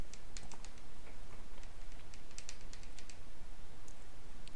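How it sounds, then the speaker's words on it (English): Rapid, uneven bursts of button clicking from a controller or keyboard during a Zelda: Majora's Mask speedrun, close and steady over a faint background hiss, with no talking. "Is that Meek clicking all the buttons?"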